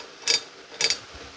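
Socket wrench loosening nuts on a Jeep Cherokee KL during a lift install with a 16 millimeter wrench and socket: two short, close ratcheting clicks about half a second apart, with no talking.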